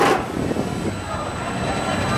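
A roller coaster train at Cedar Point rumbles past as a continuous, loud rolling roar with rattling wheel noise, steady throughout the short stretch, with no talking over it.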